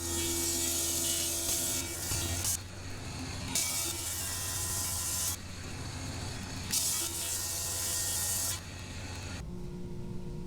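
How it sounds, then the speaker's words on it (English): Loud woodworking planer feeding cherry wood boards, a steady roaring machine hum with repeated bursts of high rasping cut noise as pieces pass through, ending with the motor idling alone. "we can head over to the planer to get a parallel face"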